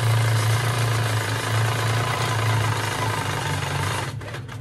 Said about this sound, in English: Stitch all the way down that vertical.